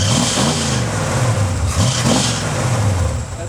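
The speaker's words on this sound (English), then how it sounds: "That little squeal you hear is just the fan" A running 1971 Ford Mustang Mach 1 fitted with an aftermarket engine fan, its engine rumbling and revving up and down up close while a thin, continuous squeal from the fan rides high above the motor, no speech.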